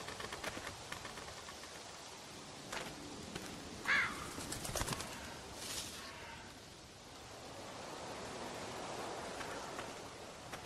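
A bird calls faintly in the video game The Walking Dead, its short chirps and coos sitting inside a dense outdoor ambience with scattered clicks.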